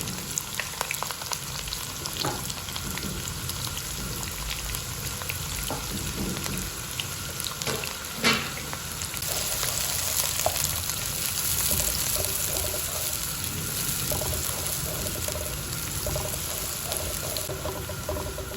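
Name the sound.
onions frying in hot ghee until golden brown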